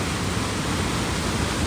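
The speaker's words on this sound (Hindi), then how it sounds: "पता नहीं कहाँ कहाँ से पानी आ रहा है।" Floodwater surging through Tirthan valley in Kullu, Himachal Pradesh, a steady, dense roar of rushing water that fills the whole short stretch without let-up, loud and close, with no voices.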